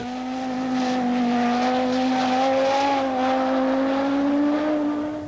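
An Audi Quattro rally car at the 1987 Pikes Peak hill climb, its engine droning steadily with a strong, slowly rising and falling tone as it powers along the mountain road, loud and close throughout.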